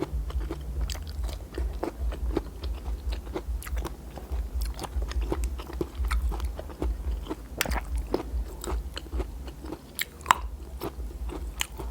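Someone eats wild sweet leaf fruit dipped in a fermented fish chili dip, close crisp bites and steady chewing with small crunches and clicks, no talking.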